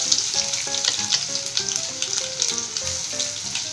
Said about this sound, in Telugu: నూనె వేడెక్కింది కదండి. ఇప్పుడు దీంట్లో కొంచెం జీలకర్ర యాడ్ చేసుకుందాం. అలాగే కొన్ని ఆవాలు, కొంచెం వెల్లుల్లి ముద్ద,